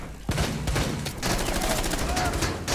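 Gunfire in Rainbow Six Siege: a dense stretch of close, sharp shots cracking repeatedly over busy game noise, some in rapid bursts.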